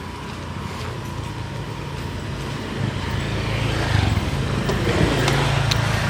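Motorbikes and other traffic pass along a beach road on Koh Tao, Thailand, a steady rumble of engines and tyres that swells louder toward the end, moderately close, with no voices.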